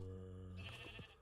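A sheep in the Minecraft video game gives a short, close bleat, followed by a brief soft rustle at the end.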